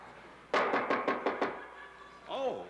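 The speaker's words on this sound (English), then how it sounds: "Oh, that's the door." Six quick, evenly spaced knocks on a door ring out close and clear, followed by a brief voice.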